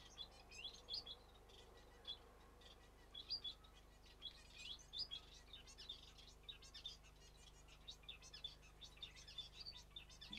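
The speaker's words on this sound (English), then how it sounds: "Little gold breast cock back there, feeding for his chicks." Gold-breasted waxbill chicks being fed by the male give rapid, thin high-pitched chirps and begging calls in repeated bursts, faint and close, over a low steady background hum.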